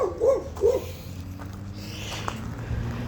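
A dog in a backyard gives two short barks near the start, fairly close, then fades into faint outdoor background noise with no talking.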